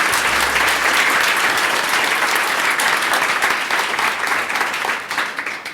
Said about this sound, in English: So can we just give both Chris and Regina a round of applause?